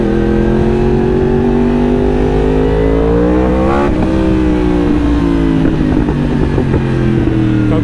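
In Thailand, a fast motorcycle hums loud and close while riding, its engine note rising smoothly, dipping sharply at a gear change, then climbing again through several revs over constant wind noise.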